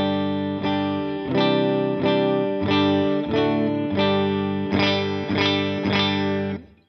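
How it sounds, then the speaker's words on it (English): Electric guitar through a Matchless amp and Matchless 4x12 cab playing a series of strummed chords, full and close, with a slight edge of breakup and some modulation shimmer, ending with a quick fade. "let's just take a sound of my clean tone. I'm running through a matchless amp and a matchless 412 cab"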